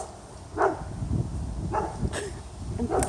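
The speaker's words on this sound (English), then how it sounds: "It's one of the neighbor dogs." A neighbor's dog barks a few times at a distance, with short, separate barks spread through a quiet outdoor background.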